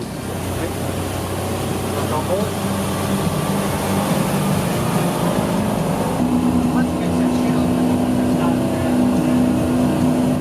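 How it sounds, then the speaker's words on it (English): A motorboat with two engines accelerates onto the plane, a loud droning roar rising into a steady higher engine tone with water rushing beneath it, close by and continuous. "I was surprised to see the power of these 2 engines, that they just got the boat into plane within seconds"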